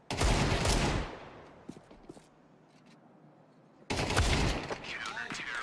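Bursts of gunfire during a Counter-Strike match on the Nuke map, a loud volley at the start, scattered faint shots in the middle, then another heavy barrage near the end.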